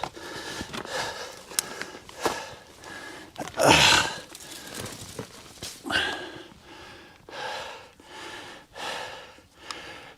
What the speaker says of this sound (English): breathing hard